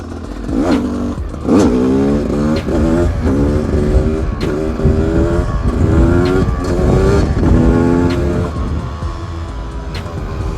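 Motorcycle engine revving hard and climbing through the gears during wheelie practice, with repeated rising pitch sweeps broken by brief dips at each shift, loud and close throughout.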